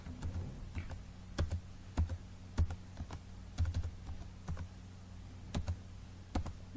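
Rapid clicking keystrokes on a computer keyboard as an ID card number is entered into an online application form, a fairly close, irregular patter of taps with no talking.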